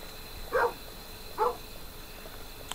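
A dog in the video game Kingdom Two Crowns barks twice, about a second apart, as two clear mid-loud yaps over a soft, steady game background.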